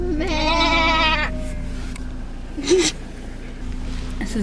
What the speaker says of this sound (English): We're being charged by sheep.